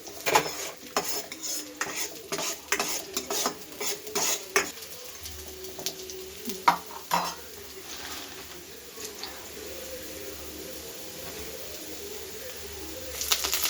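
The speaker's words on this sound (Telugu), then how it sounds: "ఆనియన్ కొంచెం వేగాక కరివేపాకు వేసుకోవాలి. ఇప్పుడే కాదు, కొంచెం వేయించుకోవాలి" Onion and curry leaves fry in a pan, with a low sizzle under repeated scraping stirs and clattering utensils. Birds coo and chirp in the background.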